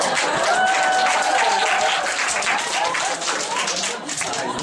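Lecture hall audience applauding steadily for several seconds, a dense wash of clapping that holds at a fairly even level, with a voice briefly audible beneath it.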